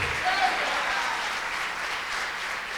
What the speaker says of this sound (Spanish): ¿Le puedo dar un aplauso al Señor?